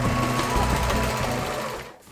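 A sewing machine stitches around the neckline of a dress in a fast, steady mechanical whir that runs loud and close before cutting off near the end.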